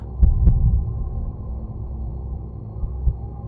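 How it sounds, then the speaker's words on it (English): A low, muffled thumping heartbeat, two close beats near the start, then a fainter beat later, over a dull rumbling background hum. "the horrid beat of the heart increased"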